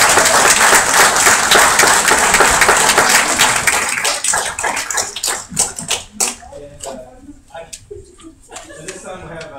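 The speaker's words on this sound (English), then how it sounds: "First, I gotta give him a round of applause." A room of participants at a youth mock city council meeting in Heath, Ohio applauds loudly, the dense clapping thinning into scattered individual claps before fading out.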